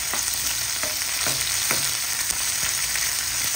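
Garlic, onion and ginger sautéing in a pan for chicken tinola, a loud close sizzle broken by repeated scraping strokes of a spatula.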